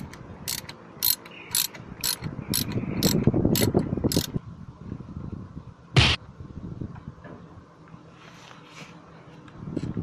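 A wrench ratchets on a nut at a car's clutch slave cylinder during a clutch leak repair, giving a quick series of sharp metallic clicks up close, then one louder clank, with low workshop rumble beneath.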